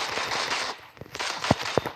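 A few sharp gunshot bursts crack out over a hissing, noisy background, spaced unevenly across a couple of seconds.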